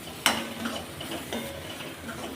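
Kashmiri chili being stirred into a mixture in a pan, with scraping spoon-on-pan clinks, a sharp clatter near the start and soft repeated stirring strokes afterward, close and moderately quiet.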